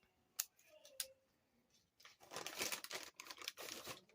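Scissors snip through red copper leather cord: two sharp clicks, then a stretch of dense crinkly cutting and rustling close to the mic, fairly quiet overall.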